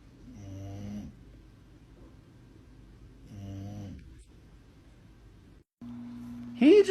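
A dog snores in two slow, drawn-out breaths a few seconds apart, close and fairly loud, before a brief high whine near the end.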